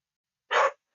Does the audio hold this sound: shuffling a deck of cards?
no